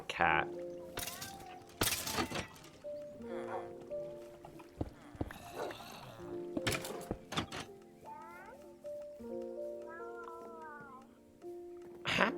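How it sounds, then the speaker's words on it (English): A cat meows repeatedly in a hardcore Minecraft game, several short rising cries scattered among game clicks and tones, with someone talking intermittently over it. "I heard a cat."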